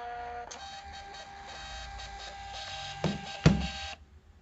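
A Bluetooth label printer prints yellow shelf labels, with a steady close whirring mechanical buzz lasting about three and a half seconds that ends in a couple of sharp clunks.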